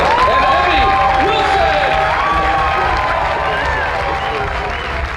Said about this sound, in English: Give an amazing round of applause